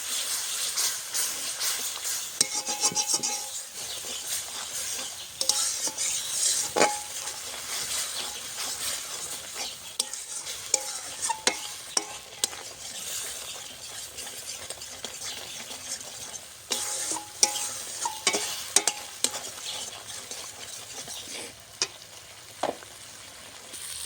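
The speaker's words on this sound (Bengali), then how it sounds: "এখন মশলাটা কষিয়ে নেবো" Ground spices with turmeric and salt being stir-fried in oil: a soft, steady sizzle with frequent scraping and stirring clatters of a utensil against the pan, moderately close.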